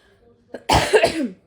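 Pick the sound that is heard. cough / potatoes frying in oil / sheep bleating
cough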